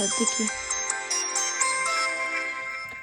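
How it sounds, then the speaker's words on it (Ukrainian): An old mobile phone switching on plays its bright, tinkling startup melody, a run of clear electronic notes that is loud and close and then fades, with a voice speaking over the start. "Вмикаємо, бачите, працює"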